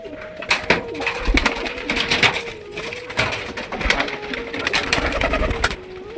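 A pigeon coos continuously at close range over a busy, loud background of rustling, clatter and wing-like flutters.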